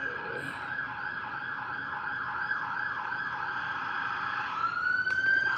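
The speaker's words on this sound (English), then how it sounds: "Those are the sirens again." A steady wailing siren rises and falls continuously, fairly loud and sustained, with traffic noise underneath.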